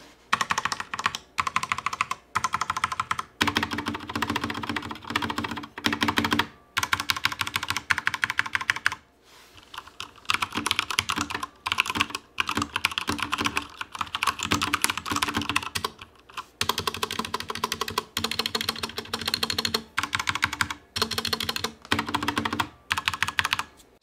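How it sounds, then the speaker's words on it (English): Rapid clacking keystrokes on a Corsair K70 RGB TKL mechanical keyboard with white switches, close and crisp, in bursts separated by short pauses, with no talking. "let's do a typing test so y'all can hear what this thing actually sounds like."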